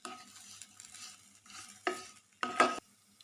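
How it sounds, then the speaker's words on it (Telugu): A spoon stirs tapioca fry with salt in a hot pan, soft scraping and gentle sizzling with two louder clattering scrapes near the end, close and fairly quiet. "ఉప్పు అంతా కూడా కలిసేలాగా మంచిగా కలపాలి"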